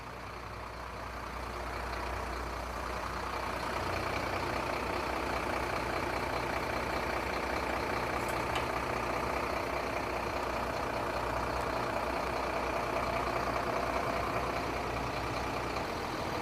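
A diesel truck engine idles steadily throughout during a fuel injection cleaning service, a constant dense drone and hum with no talk.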